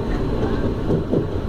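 A CPTM Line 11 Série 8500 commuter train runs near Mogi das Cruzes, making a steady, loud low rumble with rolling wheel noise heard from inside the train.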